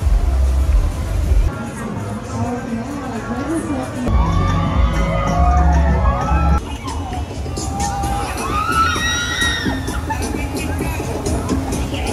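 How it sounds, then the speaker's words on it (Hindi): Riders on an amusement ride scream and shriek loudly in waves, a crowd of excited voices with children shouting and whooping, rising and falling over a rumbling ride background, with talk mixed in. "ऐ कुछ ज्यादा ही चीखा मार रहे ने"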